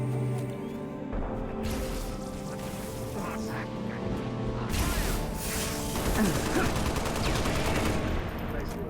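Pistol gunfire in Halo: Reach, with sharp shots and mechanical clatter over ongoing game noise, growing busier and louder toward the end.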